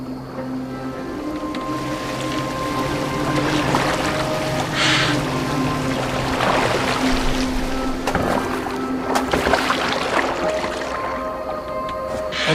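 Boat steered across open water in Assassin's Creed Valhalla, a continuous wash of water and waves against the hull with a low steady hum and occasional creaks and splashes, no talking.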